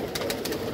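Pigeons in a loft giving low cooing calls, with a few brief fluttering bursts over a continuous murmur, close by.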